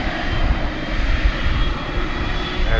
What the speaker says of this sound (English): now here goes Singapore Airlines 747.